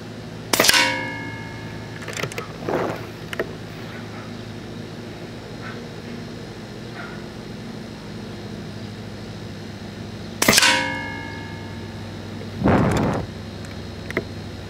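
Airgun shots fired free-handed at a downrange target: two sharp cracks about ten seconds apart, each followed roughly two seconds later by a distant metallic clang of the hit, over a faint steady background hum.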